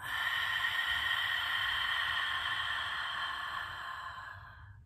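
A long, deep exhale out through the mouth during a slow breathing exercise, a steady breathy rush that lasts about five seconds, close and fairly quiet, fading gently at the end.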